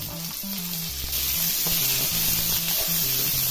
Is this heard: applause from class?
no